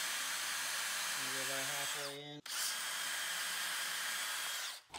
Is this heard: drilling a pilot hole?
yes